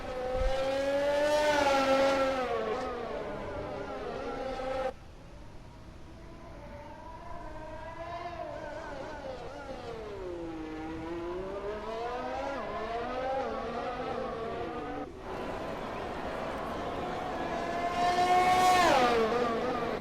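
High-revving Formula 1 engines from the F1 2020 game race through the Singapore Grand Prix, the piercing whine sweeping up and down as cars accelerate and pass in turn, loud and alone with no voices.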